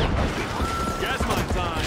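A deployed turret firing in a video game, a dense, continuous rattle of rapid shots under a talking voice, fairly loud and close throughout.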